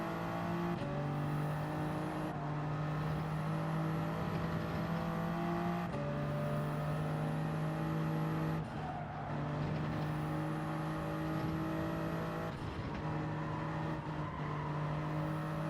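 Kart engine in Gran Turismo 7 on medium tyres, a steady loud whine rising and falling with each gear and throttle change, close and continuous throughout with no voices.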